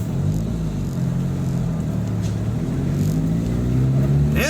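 A crusty old Geo Tracker, said to have an exhaust leak, pulls away with a loud, steady, low engine drone that rises slightly toward the end, heard from close by.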